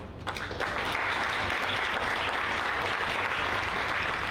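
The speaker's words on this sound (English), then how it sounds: "let's also give another round of applause to the wonderful team from The Finder who have worked really hard to put all this together" Steady applause fills an awards event livestream as the audience claps for The Finder team. A few sharp claps start it before it swells into dense, even clapping that holds throughout.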